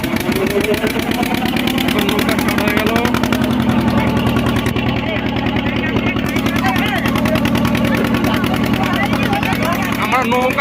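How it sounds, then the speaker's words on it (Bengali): A boat engine chugs loudly and evenly with a rapid, rhythmic thump as the boat pulls away across a village wetland during a fish festival in Bidyanagar, Purba Bardhaman, while people talk nearby. "এখন নৌকাটা ছেড়ে দিয়েছে"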